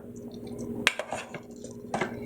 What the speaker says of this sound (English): We're going to dump it right into our serving bowl.